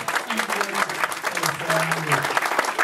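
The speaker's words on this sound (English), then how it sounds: "That didn't sound like 150 people clapping." Clapping from a comedy club audience, a fairly sparse, light round of applause from the crowd with a voice talking over it.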